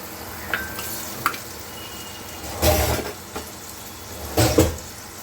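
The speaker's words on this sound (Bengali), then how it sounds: "তো এগুলো একটুখানি ভেজে নিচ্ছি" Pre-boiled potatoes and papaya pieces frying in a wok: a soft continuous sizzle with a few sharp clinks and two louder bursts of scraping and tossing, close and without speech.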